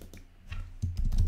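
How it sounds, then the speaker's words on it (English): Keys clatter on a computer keyboard as a product line is typed into a Shopify landing page, a quick patter of close, soft clicks in a quiet room with low background hum. "we'll just probably type in here, one bottle"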